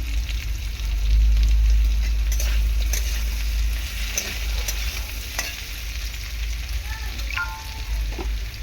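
Potato, carrot and grated ginger sizzle in hot oil with a loud, continuous fry and a low rumble underneath. Occasional light utensil clicks come through, and no voices are heard.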